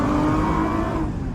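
A Lexus IS350 with a loud aftermarket exhaust blips and revs hard on a downshift, giving a close, booming burst that holds briefly and then eases off as the revs drop.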